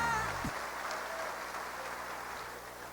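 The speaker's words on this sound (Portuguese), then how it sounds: "Vamos aplaudir ao Senhor nosso Deus." Church congregation applauding during a worship service, a continuous wash of clapping from a large room heard steadily throughout, with a brief low musical tone at the start.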